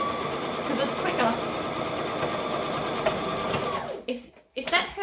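Sewing machine stitching a seam in a garment sewing tutorial, a loud steady mechanical whirr close by that runs for about four seconds, then stops abruptly and gives way to brief handling noises and a voice.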